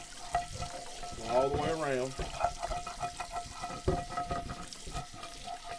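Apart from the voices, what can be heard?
hot water running and scraping in cast iron skillet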